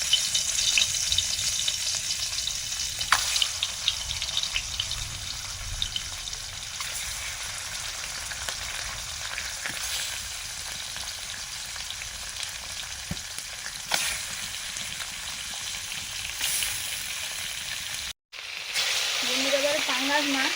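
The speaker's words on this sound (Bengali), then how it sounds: "দুটো কড়াতে তেল দিলাম মাছ ভাজার জন্য।" Fish frying in oil in a wok, a continuous bright crackling sizzle with scattered pops, steady and moderately loud, cut by a brief gap near the end before resuming.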